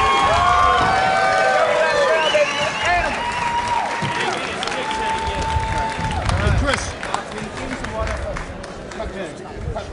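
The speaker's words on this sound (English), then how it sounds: "round of applause once again" Crowd at a kickboxing event in Atlanta applauds and cheers loudly and steadily between rounds, with dense clapping, shouts and an announcer's voice over the noise.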